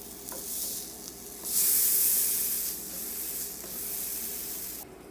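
A Dr. Praeger's vegan burger patty flipped onto a hot pan sizzles with a steady close hiss that swells loudly for a moment, then settles back to a continuous frying crackle.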